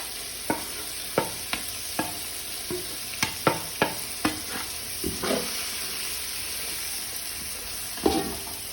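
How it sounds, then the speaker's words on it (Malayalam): Spice masala for beef curry fries in a pan under a steady sizzle while a utensil stirs it, with sharp scraping taps against the pan scattered irregularly through the clip. "ഇതിനും പച്ച മാറുന്നിടം വരെ ഇളക്കണം."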